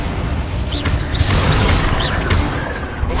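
A Bombarda spell explodes in Hogwarts Legacy as a loud, dense burst of crackling blast noise with debris-like clatter, sustained for about three seconds and heard alone.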